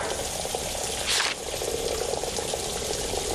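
Hot water runs steadily from a tap in a film scene, giving a continuous close hiss with a short, louder gush partway through.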